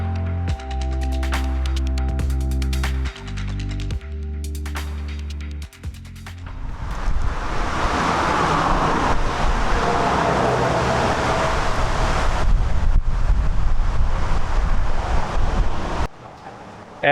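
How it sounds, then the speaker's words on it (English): Storm wind blowing outdoors near Tailem Bend, South Australia, a steady, loud roaring rush with buffeting gusts across the mic that builds and holds before cutting off abruptly. "there was a huge storm that went through, so this is just the storm brewing up"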